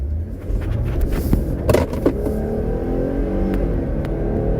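A Jeep Gladiator with its lockers engaged launches hard on loose pebbles, its engine roaring steadily while the tires spin and scrabble, with a few sharp gravel crackles rising briefly from the constant rumble.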